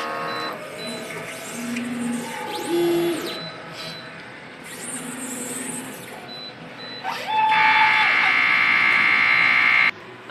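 A DTF printer runs a nozzle check. The print head carriage whirs back and forth, and motor tones sweep up and down between short mechanical stops, ending in a louder high whine. Nobody talks.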